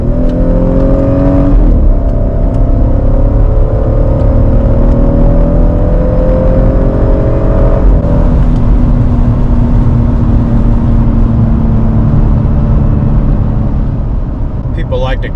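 A car driving on a dusty dirt road near Palm Canyon and Quartzsite, Arizona, with a steady engine drone and road rumble throughout, heard from inside the vehicle, with a shift in engine pitch partway through and a person talking over it.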